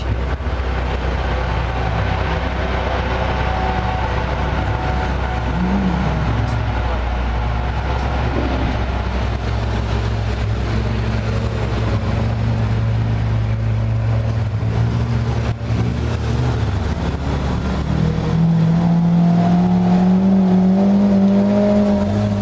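A Lamborghini Aventador V12 with a non-stock exhaust pulls away at a car meet, a loud sustained engine drone with shifting pitch and a deeper rising note near the end, mixed with surrounding traffic rumble.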